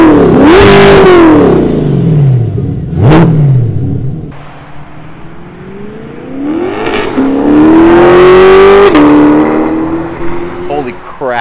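C8 Corvette with a center exit exhaust and headers revving hard: loud, close bursts of engine roar climbing and falling sharply, several throttle blips, then a longer sustained rev with crackles as it drops off.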